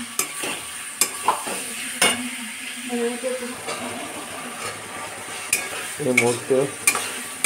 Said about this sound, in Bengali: রসুন আর পেঁয়াজ ভাজা চলছে।